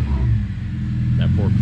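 A car engine at an autocross event drones and revs low and steady, with a brief higher squeal as the clutch is strained, and voices talking over it.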